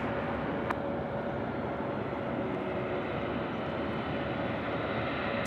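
United Airlines airliner rolling on the runway at Sydney Airport, a steady distant engine rumble and broadband rush, faint and unchanging across the few seconds, with a brief click near the start.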